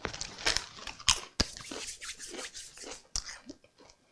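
Crisps being bitten and crunched close to the microphone, a string of sharp irregular crackles and crunches with chewing between them, loud and intimate, with no speech.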